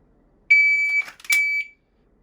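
A shot timer gives a sharp, loud electronic beep lasting about a second, cut by a brief gap and a second tone, then silence.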